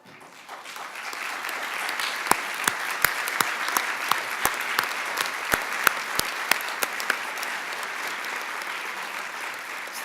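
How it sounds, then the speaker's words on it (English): A room full of people applauds honorees at a UN staff awards ceremony in New York, a dense wash of clapping that stays even throughout, with a few sharper nearby claps standing out. "please stand for a round of applause"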